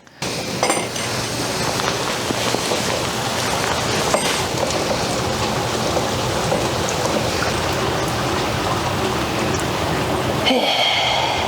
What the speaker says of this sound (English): Washington rain.